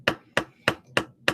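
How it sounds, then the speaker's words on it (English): Pencil knocking on a wooden desk: five crisp, close taps at a steady pace, each a short dry click with a quick decay, no voices present. "the sound of a pencil clicking and banging on a desk"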